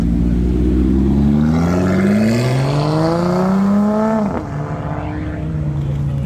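A Lotus Evora 410 GT accelerates away at a Cars&Coffee gathering in Luxembourg, its engine note climbing loudly through rising revs before a sharp gear change drops the pitch and the sound fades slightly.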